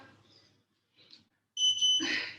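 An electronic workout timer buzzer sounds after quiet moments, a steady high-pitched tone that starts abruptly and holds under a burst of noise.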